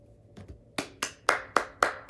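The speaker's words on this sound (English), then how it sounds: "round of applause." A lone pair of hands claps a short round of applause, six sharp, evenly spaced claps up close, following a few faint taps at the start.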